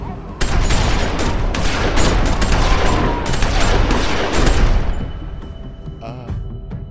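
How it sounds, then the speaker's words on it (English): Dense, loud burst of gunfire in The Walking Dead video game, a rapid fusillade of overlapping shots lasting several seconds, then tapering off into quieter ambient game sound. "I just shot Rebecca."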